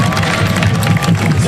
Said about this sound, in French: Est-ce qu'on peut l'applaudir bien fort, s'il vous plaît?